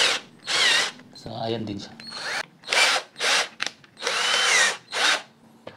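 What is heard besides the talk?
power drill with a screw bit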